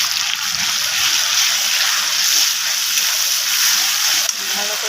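Spices hit frying onions and fish roe in a hot pan, a loud, steady broadband sizzle that fills the clip, with a quiet voice underneath.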